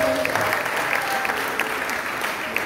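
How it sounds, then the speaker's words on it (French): A church congregation claps together in sustained applause to acclaim the Lord during a bilingual French and English sermon in Yaoundé, a dense, even wash of many hands with no break across the whole stretch. "est-ce qu'on peut acclamer le Seigneur pour ça?"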